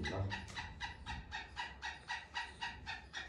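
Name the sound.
caged partridges calling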